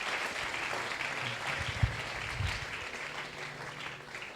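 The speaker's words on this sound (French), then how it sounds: "Acclamons le Seigneur Jésus." A church congregation applauding during a worship service, a steady wash of clapping heard from a distance with faint voices mixed in, moderately quiet throughout.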